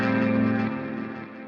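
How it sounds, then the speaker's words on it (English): Guitar through a BOSS GT1000CORE set to plate reverb, a sustained chord ringing out and slowly decaying into a smooth wash of reverb, close and fairly loud with no talking. "And then I've got the reverb set for plate."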